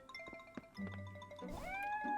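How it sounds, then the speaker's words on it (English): A game cat gives a single drawn-out meow that rises then falls, clear and close, over soft background game music and faint chimes. "I got this cat. This is a cute little kitty"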